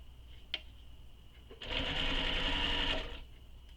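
Sewing machine stitching partway along a folded handbag lining, a short burst of steady running motor and needle chatter lasting about a second and a half, close and fairly loud, with quiet clicks before and after.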